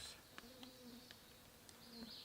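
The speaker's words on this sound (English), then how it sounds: "there seems to be quite a few mosquitoes out here" Faint, thin mosquito whines drift around outdoors by a lake in the early morning, with soft insect buzzing rising and fading against a quiet background.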